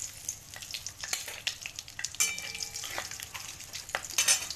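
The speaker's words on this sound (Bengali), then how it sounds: "ওই তেলে দিয়ে দেবো গোটা গরম মশলা" Whole garam masala and bay leaves sizzle in hot oil left from frying potatoes, a steady crackling fry with scattered pops and a few stirring scrapes, close and alone.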